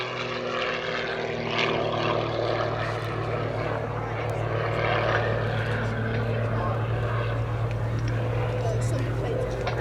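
Modified Pitts aerobatic biplane flying at an airshow, a steady loud propeller and engine drone running throughout with a commentator talking over it.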